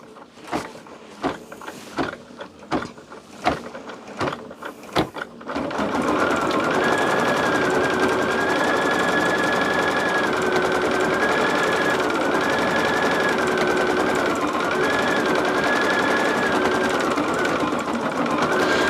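An embroidery sewing machine stitching a circle design in the hoop, first starting up with several separate thumps, then settling into a loud, steady whirring and rapid needle chatter that runs on without stopping.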